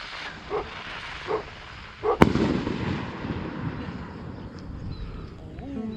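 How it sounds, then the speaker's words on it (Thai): A titanium rocket firework with an exploding head whooshes up and bursts with a sharp crack, followed by sustained crackling and rumble outdoors, after a few faint pops. "หลังจากไปจุดนะครับ ตะไลหกหุ่นยี่สิบเส้นไทเทเนียมหัวระเบิดนะครับ"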